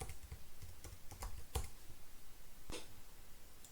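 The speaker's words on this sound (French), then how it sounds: "je clique sur le plus à partir du clavier, à partir de la barre espace, et je continue de saisir" Computer keyboard typing with scattered key clicks and a few louder presses on the space bar and tab keys, fairly close and quiet, irregular rhythm, no voices.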